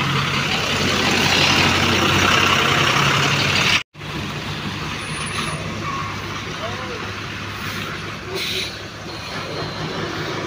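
A truck idles at a weighbridge beside a water filter plant, a steady low engine rumble with a brief cutout, then the engine continues running steadily underneath.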